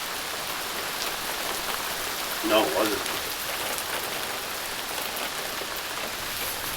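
Steady rain pattering hard on a surface, with a brief spoken remark partway through.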